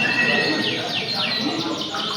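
A caged canary sings at an outdoor songbird contest in Klaten, giving a dense, continuous run of rapid trills and sweeping chirps, loud and close, over a busy background of other birds.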